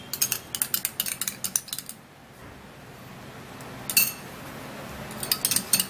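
A spoon clinks rhythmically against a bowl while mixing ingredients, a quick run of close taps, a pause, then a few more clinks.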